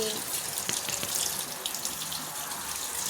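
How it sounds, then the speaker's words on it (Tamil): Tap water running steadily into a sink during handwashing, a constant close splashing hiss with faint voices in the background. "ரப் பண்ணி கழுவு கையை."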